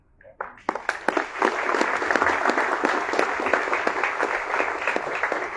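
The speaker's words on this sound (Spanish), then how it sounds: "Un fuerte aplauso" An audience at a poetry book presentation breaks into sustained, close applause, beginning with a few scattered claps and swelling into dense, even clapping that continues to the end.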